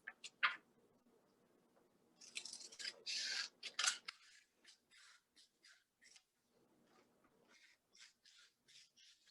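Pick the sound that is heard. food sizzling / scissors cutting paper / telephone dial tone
scissors cutting paper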